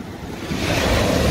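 Sea surf rolls in with a broad, rising wash of foamy waves, close and loud, mixed with some wind rumble on the microphone.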